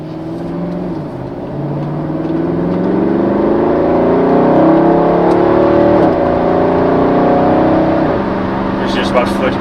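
A Mercedes SL63 AMG R230 with its naturally aspirated 6.2 V8 revving at about 30% throttle, a loud, steady engine note heard from the cabin that climbs smoothly, dips, and rises again through gear changes.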